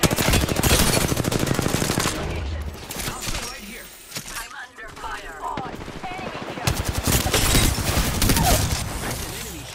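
Gunfire in the Apex Legends battle royale, dense fast automatic bursts loud and close for most of the stretch, easing briefly in the middle before heavy shooting returns.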